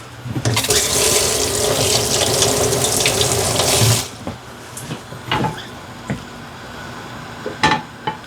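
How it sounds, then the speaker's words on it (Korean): Running tap water pours steadily into a sink as oily hands are rinsed, a loud continuous splash for about four seconds that then stops, leaving faint drips and small clatters. "손에 잠깐 기름이 묻어갖고 좀 물로 좀 약간 헹궈 봤습니다."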